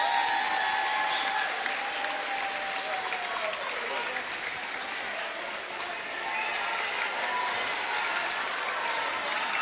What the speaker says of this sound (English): So let's everybody please give a big round of applause.